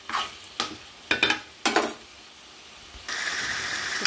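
Ginger and garlic paste frying in a pan for a radish chicken curry: several quick clanks and scrapes of a spatula, a brief pause, then a steady sizzle rising up.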